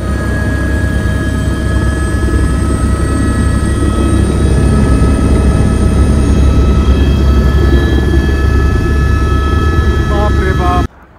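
A helicopter sits on a mountain landing site after setting down, its rotor and engine roaring loud and steady for the whole stretch, with a low rumble, a rhythmic beat and a high turbine whine, then cutting off abruptly at the end.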